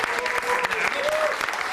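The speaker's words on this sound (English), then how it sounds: "Round of applause." An audience applauds a harpist with steady, dense clapping, while voices talk faintly underneath.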